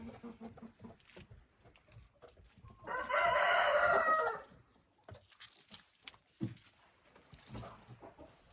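Chickens in a coop with small door hatches cluck and murmur, and a rooster crows once loudly and close over about a second and a half, followed by more scattered clucks.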